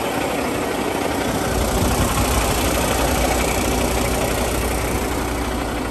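A 2021 Peterbilt 389 semi truck idles with its exhaust stacks and turbo running, giving a steady, loud diesel rumble that holds even throughout with no talk.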